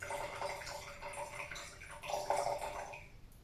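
Red wine vinegar pours into a jar of oil in a home kitchen, a soft continuous trickling and gurgle of liquid that rises briefly then tapers off.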